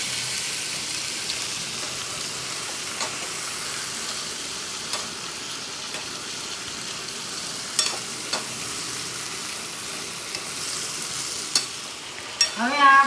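Potato chips fry in a pan with salt, turmeric and cumin powder, giving a steady soft sizzle throughout, broken by a few light clinks of stirring and a clatter at the end, with no talking.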